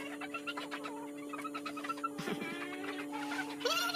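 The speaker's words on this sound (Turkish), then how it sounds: "bayağı çok erkek horozumuz var" Roosters and hens cluck and crow together in a farm poultry yard, a busy overlapping chorus of close clucks with a louder burst near the end over a steady low hum.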